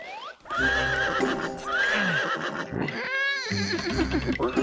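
A cartoon horse neighs loudly several times, high shaky whinnies repeated over and over, mixed with clip-clop hoofbeats and a rising whistle-like sound effect, all close and alone with no talking.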